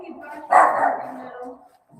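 A dog named Little Bit barks once, a close and fairly loud bark with a short tail trailing off. Quiet sound sits before and after the bark.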